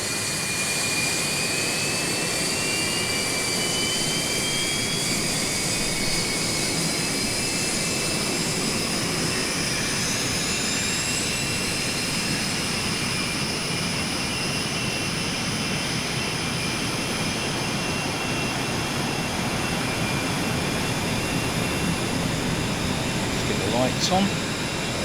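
Steady, loud whine of a T-38 Talon jet engine in Microsoft Flight Simulator, a continuous roar with high tonal whistles and slowly shifting pitch sweeps, unbroken for the whole stretch.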